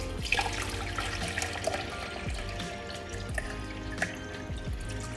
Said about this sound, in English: as you're pouring water into the top compartment